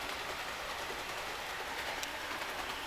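A Jouef TGV Duplex model train pulling ten cars runs steadily along its track, a continuous rolling rattle with faint clicking, no voices.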